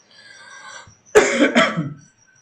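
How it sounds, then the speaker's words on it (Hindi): A faint breathy sound, then two sharp, harsh coughs close to the listener, trailing off into a short throat-clearing rasp. "थोड़ा सर्दी हुई है इसलिए मुझे खांसी आ रही है"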